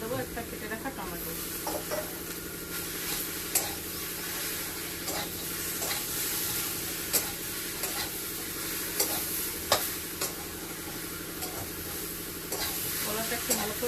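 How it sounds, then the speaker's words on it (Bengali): Raw banana, soybean chunks and potato being fried slowly in a pan for a curry, with a steady soft sizzle and frequent scraping stir strokes throughout at close range. "ওই জন্য একটু ধীরে ধীরে সুন্দর করে ভেজে নিচ্ছি।"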